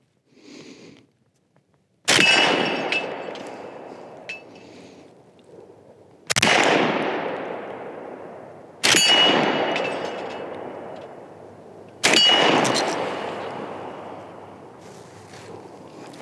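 Four loud shots from a Ruger carbine ring out at a steady, unhurried pace, each a sharp crack followed by a long ringing tail as the rounds strike a steel target.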